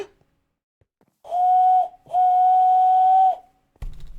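A person imitates a train whistle with two sustained, steady whistle tones, the second longer, loud and close, followed by a short thump.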